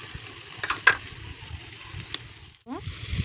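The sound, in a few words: egg paratha filling frying with cumin and coriander powder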